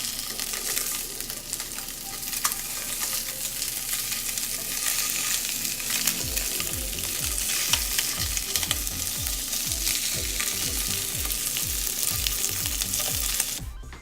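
Food frying and sizzling in a pan just after being flipped to a golden-brown side, a continuous loud hiss with crackling, joined by a rapid rhythmic scraping or stirring pulse in the second half.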